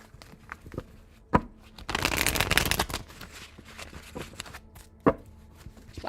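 Tarot cards shuffled in a quick riffling burst of about a second, close and crisp, framed by a few sharp taps and handling noises.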